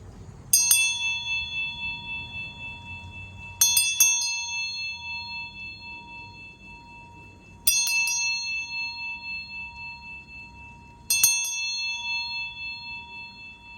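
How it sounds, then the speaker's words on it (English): A bell is struck four times at slow, even intervals, each bright ring decaying slowly in a quiet room. "We shall ring the bell."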